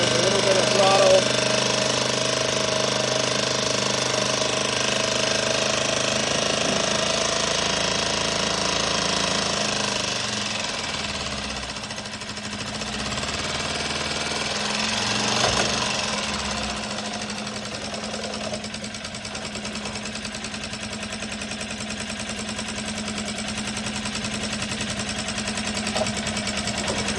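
A Hangkai 6.5 hp four-stroke outboard motor runs with a steady, rattling drone close by that rises and falls slightly as the throttle is opened a little.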